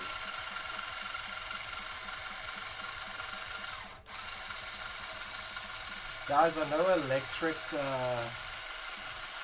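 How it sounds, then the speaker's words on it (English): An electric drill winds strings on an 8-string guitar with a steady mechanical whir that briefly dips before someone speaks over it. "these electric drills for guitar are expensive, but holy crap."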